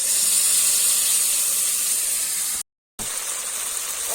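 Mustard paste sizzling in a hot pan for Bengali koi fish curry gives a steady, close hiss of frying that runs throughout, broken once by a brief silent gap.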